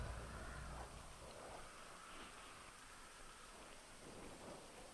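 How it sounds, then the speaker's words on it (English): Steady rain and low rumbling thunder in the Grand Theft Auto 5 game world, a faint, continuous wash of rainfall with a deeper rumble near the start. "It's so stormy and rainy outside."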